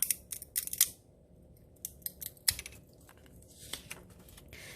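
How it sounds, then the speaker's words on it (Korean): Sharp scissor snips cut through light, stiff corn-stalk sticks, a quick cluster of clicks followed by scattered single cuts, close and crisp. "수수깡과 가위를 이용하여"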